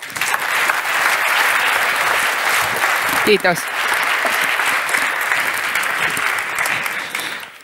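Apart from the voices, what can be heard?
audience applause at a conference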